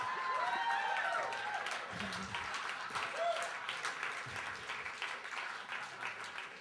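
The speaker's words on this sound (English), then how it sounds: "I always welcome applause as an interruption for a poem" An audience at a spoken word festival in Calgary applauds a poem in the middle of a reading, steady clapping running through with scattered whoops and voices rising above it.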